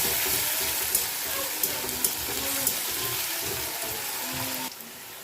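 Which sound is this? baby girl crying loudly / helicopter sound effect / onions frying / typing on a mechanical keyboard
onions frying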